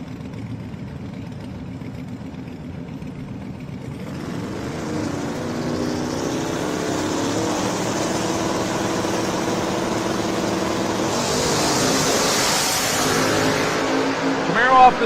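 A Malibu station wagon and a second-generation Camaro sit on the starting line at a drag race. Their engines rumble, then rev and rise to a loud roar as they launch, under a commentator's voice.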